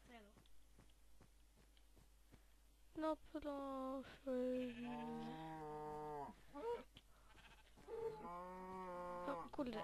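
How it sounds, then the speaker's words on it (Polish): Sheep bleating in Minecraft, several drawn-out wavering calls mixed with cow-like lows, fairly close and clear, following a few sharp clicks. "o i nawet owieczki są."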